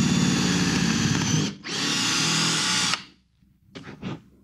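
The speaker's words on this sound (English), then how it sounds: "And we'll drill the other hole." A power drill bores a hole during a wakeboard tower installation on a boat, whining loudly and steadily in two long runs separated by a brief pause, then stopping with a few short, softer bursts at the end.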